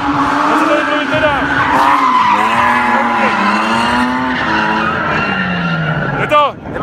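Drift cars, including a Nissan S15, skidding around a track in Ostrava, loud continuous tire squeal with wailing engines rising and falling in pitch, close by and dominating the scene.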